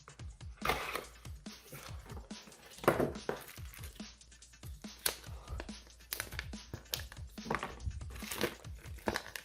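Taped packaging holding a pair of DURATECH flush wire cutters being opened by hand, with quiet, continuous crinkling, tearing and rustling that has frequent small sharp snaps; no talking.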